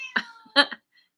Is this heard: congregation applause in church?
no